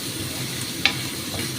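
Prawns frying in hot oil give off a steady, moderate sizzle with one brief sharp clink partway through.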